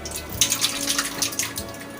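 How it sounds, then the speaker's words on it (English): Fruit juice is poured into a pan while making homemade jam, giving a steady, close splashing trickle of liquid with small bursts of spatter and no talking. "we should pour the juice on the pan"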